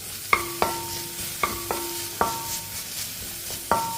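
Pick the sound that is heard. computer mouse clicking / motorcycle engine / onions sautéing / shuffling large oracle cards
onions sautéing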